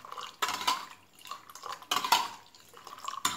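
Spoon stirring wild stingless-bee honey into an herbal immunity tea, several close clinking bursts of metal against a cup or pot, separated by short quieter gaps.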